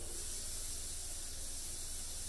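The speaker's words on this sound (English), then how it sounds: "fill up the water reservoirs in the wonderful steam mop" Cold water pours steadily into a steam mop's reservoir with a continuous soft hiss, even and unbroken throughout.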